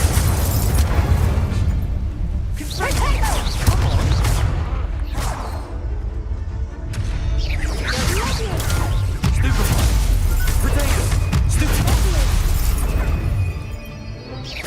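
Fire spells cast during combat in Hogwarts Legacy, with repeated whooshing bursts, booming impacts and crackling shatters in quick succession, loud and close, mixed with shouted incantations.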